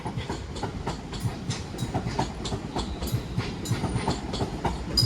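British Rail Class 350 electric trains at London Euston station, with a steady rumble and rhythmic clickety-clack of wheels over rail joints as carriages roll past nearby, no talk.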